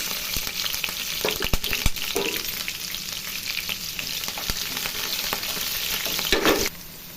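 Cumin, onion and green chilies fry in hot oil with a steady close sizzle, broken by a few spoon scrapes and clicks from stirring, until the sizzle suddenly drops away at the end.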